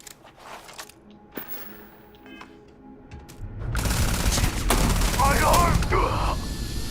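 Gunfire in the Starfield video game starts after a quiet stretch of faint clicks and small sounds, then bursts into a loud, sustained volley of rapid shots and booms that lasts to the end.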